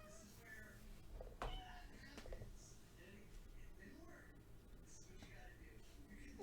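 A house cat meows repeatedly, wanting to be let outside, in short faint calls at a distance indoors against a steady background hum, with brief quiet speech nearby.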